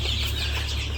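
Chickens cluck inside a chicken coop shared with quail, a dense, steady flock murmur over a low electrical hum that never lets up.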